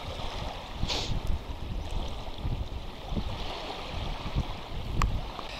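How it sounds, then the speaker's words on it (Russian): Strong wind roars across open water at a spring fishing spot, a constant broadband rush with gusts and buffeting against the microphone, waves lapping underneath and occasional knocks. "Жестокий ветер, прям жестокий"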